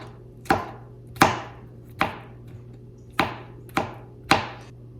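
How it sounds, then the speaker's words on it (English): A knife chops a crushed garlic clove on a cutting board, six crisp, evenly spaced strikes ringing out close and clear against a faint steady hum, with no talking. "Now we want to crush 1 clove of garlic. Now we want to just give this a nice little chop."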